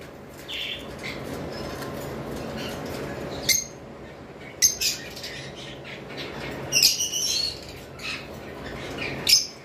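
Caged lovebirds, including rosy and blue albino pairs, let out sharp chirps and squawks in short bursts over a low background hum, with brief wing flutters between calls.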